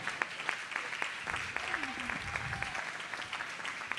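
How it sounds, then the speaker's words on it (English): Steady applause from an audience, a dense patter of clapping that continues throughout at moderate volume, with some voices mixed in. "You can give them a little bit of applause"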